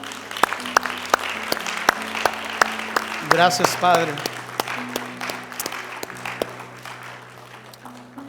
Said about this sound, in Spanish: ¿podemos darle un fuerte aplauso al Señor?